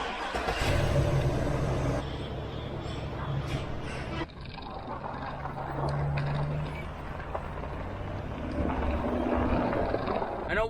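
A car on its way out to the cattle, pulling a trailer, with engine rumble and road noise running steadily beneath people talking inside.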